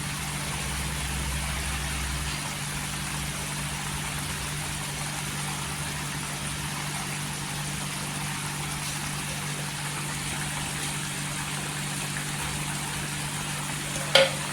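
Egg tawa masala cooks in a pan with fried eggs added to the spiced gravy, a constant soft sizzle over a low hum, ending in one sharp clink.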